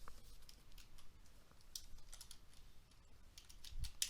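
Quiet keystrokes on a computer keyboard come as a soft, irregular run of light taps with brief pauses, close but faint.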